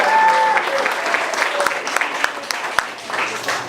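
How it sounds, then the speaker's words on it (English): Audience clapping at a campaign event for a county supervisor candidate, a steady burst of applause from a seated crowd that holds for several seconds with a few sharper individual claps, while a voice murmurs faintly in the room. "Give him applause."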